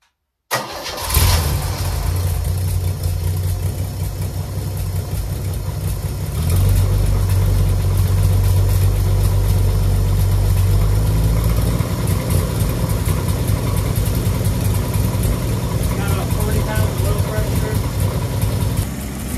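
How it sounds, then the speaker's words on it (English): A Chevy 250 inline six cranks and fires up, then settles into a steady, loud, close idle that runs on without a break, with an exhaust leak between intake sections. "I'm going to clip my ignition wire on and see if it'll start again."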